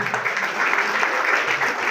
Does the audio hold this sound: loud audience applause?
yes